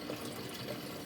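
Water runs through a fish tank overflow into the filter as a soft, steady trickle, faint and continuous over a short moment with no voices.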